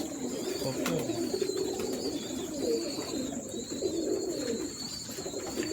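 Indian Ferozpuri pigeons cooing in a breeder's loft, soft low throaty coos repeating over a steady background hiss and a faint high whine, with occasional faint chirps.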